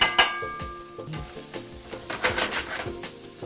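Onions, peppers and garlic hit hot shimmering oil in a pan, giving a steady sizzle broken by clanks and scrapes of stirring; no talking.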